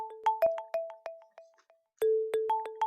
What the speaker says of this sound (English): I need you to hang up that phone right now